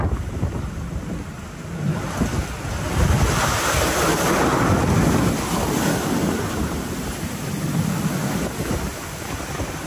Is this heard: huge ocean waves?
yes